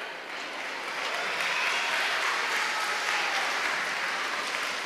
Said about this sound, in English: So that applause goes to the artists anyhow